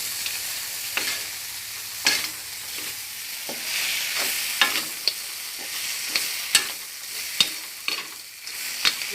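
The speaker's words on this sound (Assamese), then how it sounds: "এয়া চাওক কি ধুনীয়াকৈ মই এতিয়া ভাজি আছোঁ।" Goat head pieces frying in a pan for an Assamese-style dish, a steady sizzle broken by repeated sharp scrapes and knocks of a stirring utensil, close and fairly loud, with no talk.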